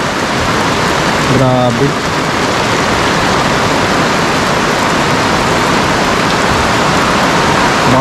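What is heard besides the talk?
heavy rain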